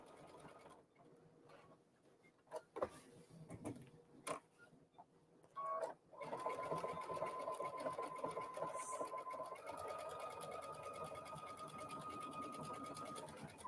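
A sewing machine runs fast and steady, stitching fabric pieces together close by after a few scattered handling clicks and taps.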